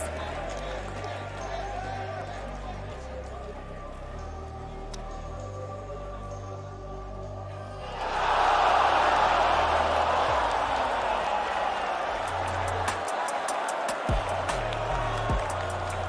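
At an esports world championship group draw, the crowd in the arena swells into loud cheering and applause halfway through, following a stretch of announcer talk over a low hum. The roar stays broad and sustained, with some sharp claps near the end.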